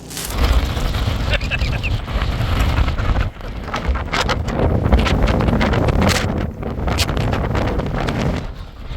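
Strong wind buffeting a car, a loud continuous roar of rushing air and microphone rumble with gusting surges that fill the whole stretch.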